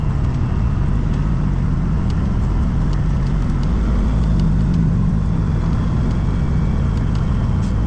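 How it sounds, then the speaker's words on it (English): A big truck drives along a narrow road: a loud, steady engine drone with a continuous rumbling roar throughout and no pauses or voices. "And now we're going in the big truck"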